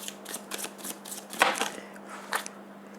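Tarot cards shuffled during a Capricorn weekly reading, giving a run of quick papery riffles and snaps over about three seconds, close and fairly soft, with a faint steady hum underneath.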